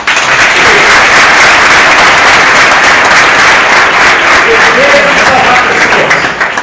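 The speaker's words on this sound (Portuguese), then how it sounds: "Então eu queria que você desse uma salva de palmas." Loud, dense applause from a large church congregation at a baptism fills the space continuously, steady and sustained throughout.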